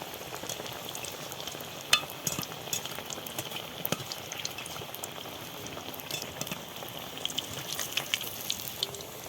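Raw green banana chops deep frying in hot oil, a steady dense sizzle and crackle with small pops running throughout, close and fairly loud, with no talking.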